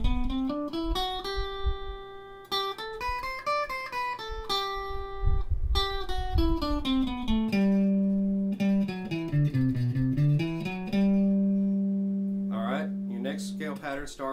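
Guitar picking a major scale pattern from root to root, single clear notes climbing and then descending in a steady, even rhythm, played alone and close.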